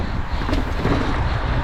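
Strong wind buffets the microphone on a hilltop among trees in a loud, continuous rumble with gusty swells and no voices.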